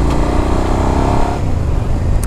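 A Suzuki SV650 V-twin motorcycle fitted with a Cobra SC3 exhaust revs loudly up close, holding a steady, throaty drone that drops slightly partway through, with no voices.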